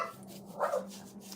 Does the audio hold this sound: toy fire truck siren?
no